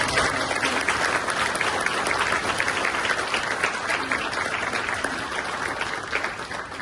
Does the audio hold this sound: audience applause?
yes